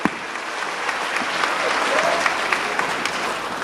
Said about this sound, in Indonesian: Oke, kasih tepuk tangan yang meriah Bapak Ibu.